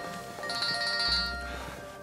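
An electronic telephone ringtone sounds for an incoming call with a steady, bright, repeating tone, fairly close and alone, before anyone answers.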